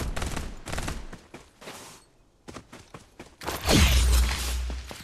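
Bursts of rapid gunfire in the video game Farlight 84, several volleys separated by brief pauses, then a heavy booming impact with a rumbling tail, loud and close.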